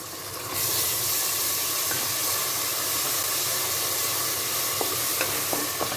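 Ginger garlic paste hits onions frying in oil for a beef biryani, setting off a steady, loud broadband sizzle with stirring scrapes and a few faint clinks, no voices.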